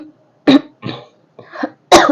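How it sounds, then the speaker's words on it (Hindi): A woman coughs four times in quick, separate bursts, close and fairly loud, with short silences between each cough. "सॉरी मुझे खांसी आ रही है बार बार"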